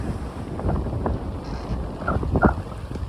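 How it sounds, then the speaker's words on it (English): Wind at sea aboard a sailboat while the breeze builds, heard as loud continuous buffeting rumble against the microphone with gusty surges and some water and rigging noise, no talking. "wind's piped up, so time to put a first reef in"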